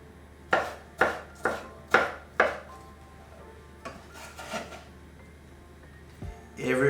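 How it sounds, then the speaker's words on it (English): A sharp knife dices a tomato on a board in several crisp, evenly spaced chops, then a quieter rough stretch of scraping and cutting with a brief knock near the end. "so I'm gonna dice it again, keep the juice inside"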